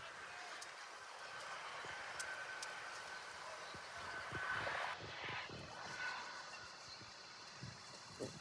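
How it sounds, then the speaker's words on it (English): Airplanes from San Jose Airport passing overhead during an outdoor soccer match, a steady distant jet roar with a swelling pass near the middle, heard alone at moderate volume. "Sound of the planes from the San Jose Airport"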